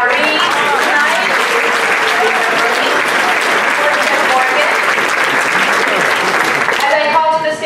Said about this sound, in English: One more round of applause for all of our honorees tonight.